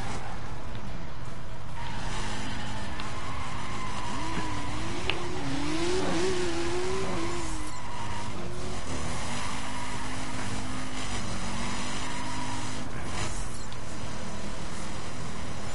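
Dirt-spec racing car engine in a driving video game, a steady loud drone with rising and falling revs throughout, a brief pitch sweep midway, no talking.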